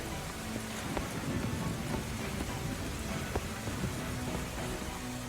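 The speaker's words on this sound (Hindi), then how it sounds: "बारिश और भी तेज हो गई।" Heavy rain pours steadily at night, a dense continuous wash of drops hitting surfaces with no break, with faint thuds like distant thunder underneath.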